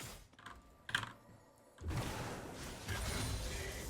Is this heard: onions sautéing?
no